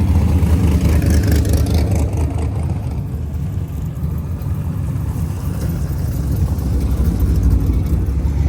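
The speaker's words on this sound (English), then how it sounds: "we have a whole other line of cars rolling in, another 4 cars" Several cars roll in one after another in a line, a steady, loud engine rumble and drone with no talk, easing slightly midway before building again.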